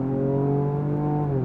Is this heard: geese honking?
no